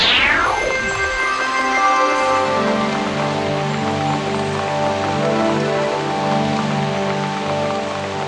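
Cartoon rain falling steadily after a descending sweep at the start, the pattering wash layered over sustained musical tones throughout.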